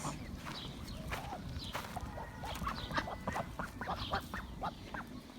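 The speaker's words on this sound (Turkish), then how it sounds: "Bunlar ördeklerimiz, bakbaklarımız" Ducks kept with other poultry on a Turkish farm quack repeatedly in short nasal bursts, several birds calling close by over a busy background of scratching and footsteps.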